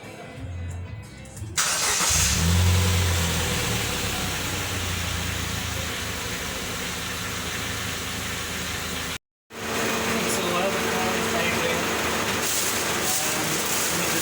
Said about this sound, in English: So let's start her up, and we'll let her idle for the next few minutes.